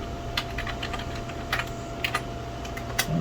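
Someone types on a computer keyboard while installing Amithlon, in quick irregular bursts of fairly soft key clicks over a steady hum.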